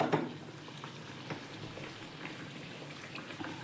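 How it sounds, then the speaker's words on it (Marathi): Kachori deep frying in hot oil, a steady soft sizzle with scattered crackles and pops, quiet and close, no talking. "आता चांगली त्याला खरपूस थोडासा ब्राउनिश कलर येईपर्यंत फ्राय करून घेऊयात"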